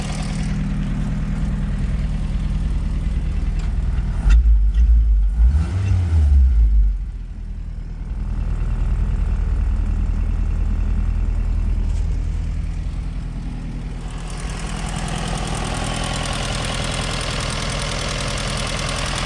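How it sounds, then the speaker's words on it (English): A 1951 Willys pickup engine, recently freed after being seized, runs steadily with a rough low idle throughout, briefly surging and revving near the middle before settling back into an even, close-up chug. "But sounds pretty good for an engine that was seized up."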